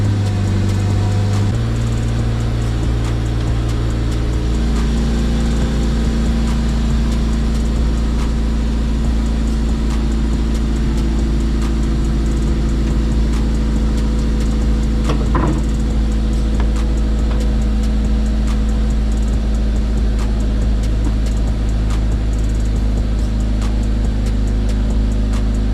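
An Acura RSX engine starts and then idles in a steady, continuous low hum, close and fairly loud, with a brief clatter midway and no talking.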